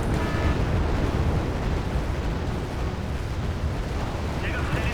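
Bombs striking in Wargame: Bear vs Dragon: a continuous, heavy rumbling roar of overlapping blasts that stays loud throughout with no clear breaks.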